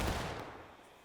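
Musket volley from a line of soldiers in a Napoleonic-era historical battle game, a single broad crack at the start that decays into a rolling, fading rumble, moderately loud with no voices over it.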